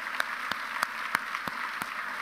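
Audience applause at a speech event, a faint, steady patter of clapping from a crowd with a few sharper individual claps standing out, heard from a distance.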